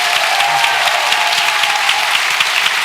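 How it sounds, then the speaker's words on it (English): An audience at a Cambridge Union event applauds, dense sustained clapping from a large crowd, loud and even throughout. "Just before we give a round of applause"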